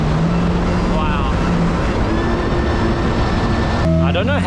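A fast jet ski off a beach hotel in the Philippines roars steadily at speed with a constant engine drone and rushing water, loud and close, with a pitch shift near the end.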